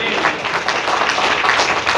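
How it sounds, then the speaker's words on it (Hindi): A congregation claps hands together in rhythm during a Hindi night prayer, steady repeated claps mixed with voices. "ताली बजा के प्रभु को स्तुति करेंगे।"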